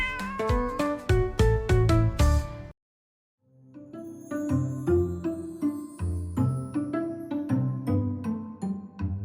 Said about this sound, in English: Oh, your neighbor's cat.